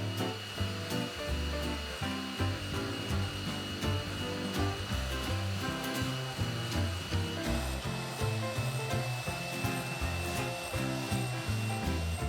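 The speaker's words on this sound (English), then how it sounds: "I'm going to whisk the egg whites and the whisk egg white until you get the soft peaks" Egg whites being beaten to soft peaks for gluten-free Italian almond cookies, with a steady loud mechanical whir of the mixer running continuously, close and unbroken throughout, no talk.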